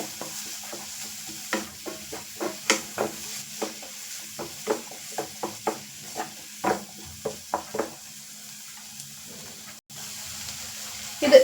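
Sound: chopped tomato sautéing in a pan for kothu parotta

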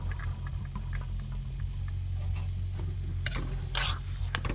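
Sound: stirring peas in a frying pan with a spatula

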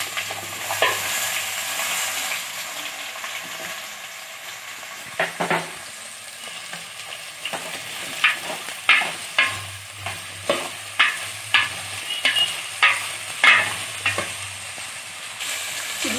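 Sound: carrot, radish and onions added to pan, frying and stirring

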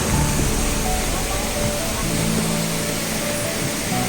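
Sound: waterfall

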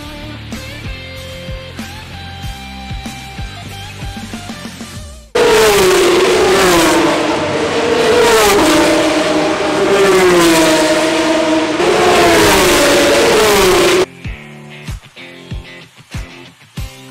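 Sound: Formula 3 race cars passing at Spanish Grand Prix

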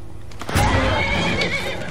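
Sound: horse neighing in video game Skyrim

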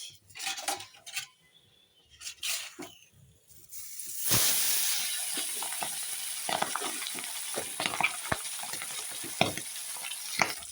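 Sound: pabda fish frying in oil

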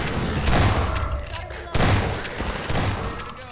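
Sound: shotgun blast from video game Half-Life 2

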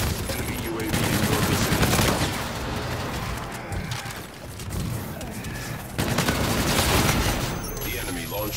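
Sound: gunfire in a military video game

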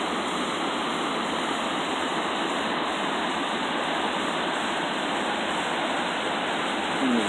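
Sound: water flowing down a small cascade at a beach

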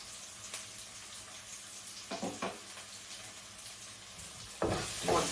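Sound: fenugreek and cumin frying in a pan

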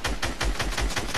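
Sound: breaking a tree in the video game Fortnite

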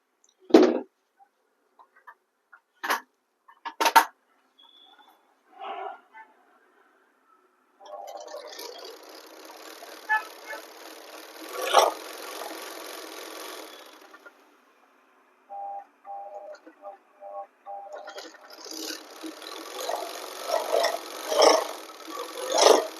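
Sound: overlock sewing machine stitching pant fabric

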